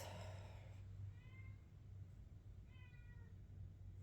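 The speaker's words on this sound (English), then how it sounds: "Usually when I read, my cats they'll cry at the door." Cats crying at a door indoors, two drawn-out meows about a second apart, moderately faint over a steady low hum, with no talking.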